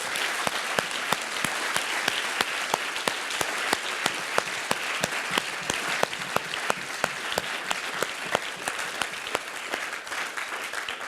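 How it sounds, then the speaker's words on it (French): A conference audience applauds itself at a motivational talk: dense, sustained clapping from a large crowd, even and loud throughout, with no voices standing out. "je voudrais que vous vous applaudissiez"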